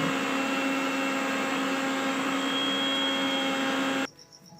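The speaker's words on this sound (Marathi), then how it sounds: "ही जी कापलेली खारीक आहे ती मिक्सरमधून बारीक करून घ्यायची आहे" A mixer grinder whirs loudly and evenly while grinding chopped wet dates, its motor whine steady for about four seconds before cutting off abruptly, leaving a quiet tail.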